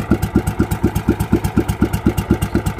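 Fourteen-year-old engine of a large wooden fishing boat running steadily, a loud, close, rhythmic chugging with even regular pulses throughout and no talking over it.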